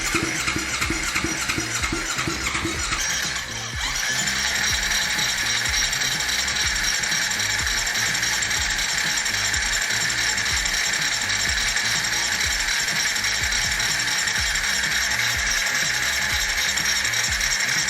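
A Kawasaki Z250 motorcycle engine is turned over during timing chain replacement, with a steady mechanical clatter and ratcheting rhythm, loud and close, continuing without pause after a brief change early on.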